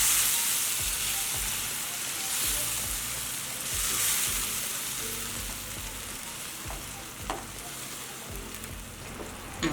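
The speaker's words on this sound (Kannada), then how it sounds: "ಪೇಸ್ಟ್ ಮಾಡಿ ಇಟ್ಕೊಂಡಿರೋ ಟೊಮೆಟೊ ಹಾಕ್ಕೊಳ್ಳೋಣ." Tomato paste frying in hot tempering oil with chilli powder for a tomato dal, giving a steady, close sizzle with soft stirring scrapes throughout.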